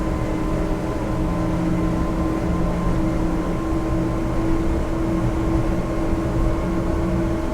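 A steady, continuous engine drone from a Schaefer 375 motorboat underway, a constant low hum with an even tone that holds throughout without clear rises in revs.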